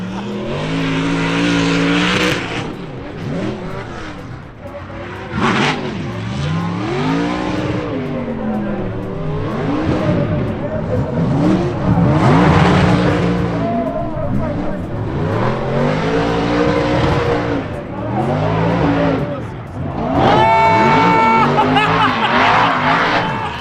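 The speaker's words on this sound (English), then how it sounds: "that car made 400 horsepower 5 years ago" A 400-horsepower race car at the LZ World Tour Etown 2025 event revs hard again and again, its engine note climbing and dropping in repeated sweeps, with tire squeal and skidding mixed in, close and loud throughout.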